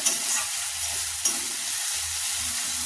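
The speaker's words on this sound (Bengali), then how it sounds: "পেঁয়াজ লাল হয়ে গেছে, এবার আদা রসুনের পেস্ট দিয়ে দেবো, ভালো করে নাড়াচাড়া করবো" Browned onions with ginger-garlic paste sizzle hard in a pan, and rhythmic scraping stirs run through a steady, close frying hiss with no talking.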